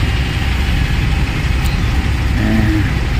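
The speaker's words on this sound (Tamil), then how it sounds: "எல்லா வண்டியும் ஸ்டார்ட் பண்ணிப்போம், ஆனால் மூவ் ஆகாது" Several vehicles started and left idling in place on a road from Erode to Dhimbam, with a steady low engine rumble and a brief tonal rise near the end, fairly loud, with no talk.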